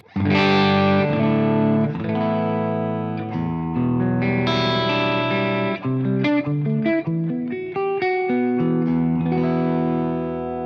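Les Paul electric guitar through a Soldano X88-IR preamp's clean channel, chords ringing out and then a run of picked single notes, loud and close with a touch of shimmer.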